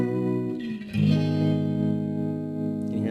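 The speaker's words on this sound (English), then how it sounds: "There's a little bit of tremolo on there because tremolo is part of a twin reverb." Clean electric guitar chords through a Fender Twin Reverb-style amp tone ring with a gentle wavering tremolo and a touch of reverb, sustaining loudly with no voices present.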